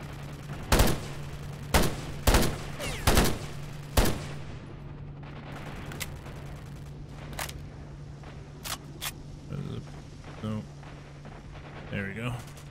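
Rifle shots in the video game S.T.A.L.K.E.R. ring out as a run of sharp, loud single reports roughly a second apart, then sparser, fainter shots and clatter follow under a steady hum.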